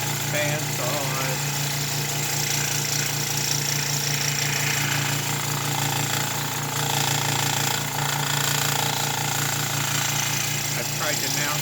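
A bandsaw cutting wood runs as a loud, constant, steady mechanical whine and buzz, heard from a little way off, with no pauses and no talking.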